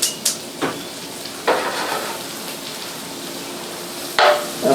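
Thick sliced mushrooms fry in a pan with a constant, fairly loud sizzle, broken by several sharp scraping and clanking strokes as they are stirred.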